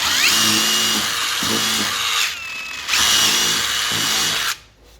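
A power drill whines loudly and steadily while drilling pilot holes for screws in a bus-conversion rear deck, pausing briefly twice before winding down, close up with no talking.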